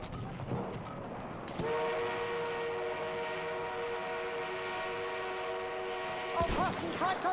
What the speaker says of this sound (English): Train is on route.